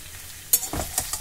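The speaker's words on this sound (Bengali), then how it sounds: "লবণটা দিয়েও আমি ভালো করে নাড়াচাড়া করে নিয়ে এইবার একটা ঢাকা দিয়ে 2 মিনিটের জন্য লো ফ্লেমে বসিয়ে রাখবো।" A spiced curry with salt added sizzles gently in a pan while a spoon stirs through it in a few quick scraping strokes, close up and soft, without any talking.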